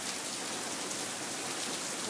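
Steady rain falling outdoors, a dense continuous hiss of drops on surfaces with no voices, close and even throughout.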